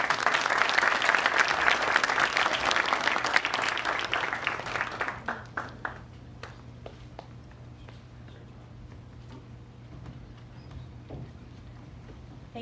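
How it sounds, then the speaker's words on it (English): A crowd at a medal ceremony for Borough Park residents who saved a policeman bursts into loud, dense applause that thins after several seconds into scattered claps, with a low steady hum beneath. "a round of applause for what you did"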